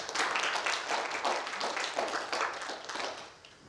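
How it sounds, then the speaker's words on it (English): Church congregation clapping their hands in praise at the close of a service, a dense, continuous wash of many hands clapping together that fades slightly at the end. "Let's give God a hand clap of praise."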